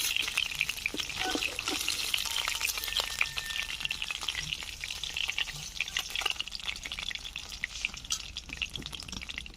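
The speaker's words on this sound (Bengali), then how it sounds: "এই তেলে বাদবাকি মাছগুলোকেও ভেজে নেব।" Fish pieces fry in hot oil in a village kitchen, giving a steady, close crackling sizzle with scattered pops and light stirring scrapes throughout, with no talking.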